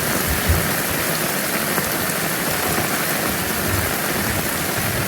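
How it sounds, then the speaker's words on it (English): Steady, heavy monsoon rain pours continuously with a dense hiss of drops on surfaces, no voices, constant and enveloping throughout. "I do like a good rain."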